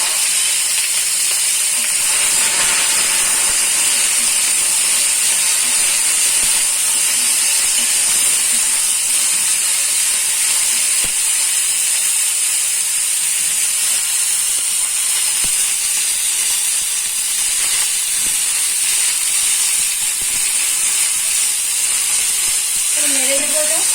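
Brinjal, drumstick and pointed gourd for Bengali shukto fry in a pan with a steady, loud, hissing sizzle that runs unbroken throughout.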